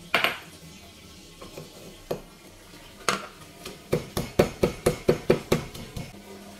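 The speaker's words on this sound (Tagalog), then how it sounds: "At ididikdik na rin natin ang ating paminta." Black pepper being pounded in a mortar for Filipino siyagul: a few scattered knocks, then a steady run of about nine sharp, close pestle strikes in even rhythm.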